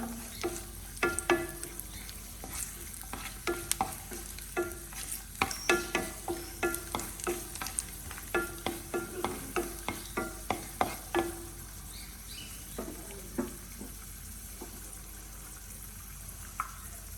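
Cashew nuts being stirred and roasted in a pan for pasta, with a soft steady sizzle and repeated close scraping and clinking of a spoon against the pan, no talking.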